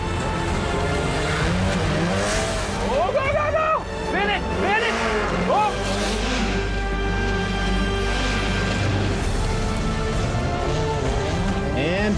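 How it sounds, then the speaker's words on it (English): A car performs tight donuts at a motorsport event, a loud continuous engine drone with rising and falling revs and tire squeal, heard under an excited commentator's voice throughout. "back down doing a donut around the feature that Dave Mira was a little bit tighter on."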